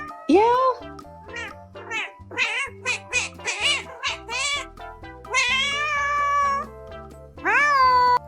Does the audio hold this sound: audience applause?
no